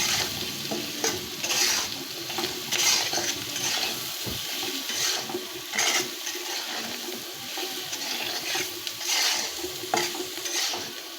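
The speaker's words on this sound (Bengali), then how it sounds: "এবার আমি সব কিছু মিশিয়ে নেব।" Taro flower mash being stirred and mixed in a pan, a steady scraping and squelching of spoon against metal repeating in rhythmic strokes, close and moderately loud with no talking.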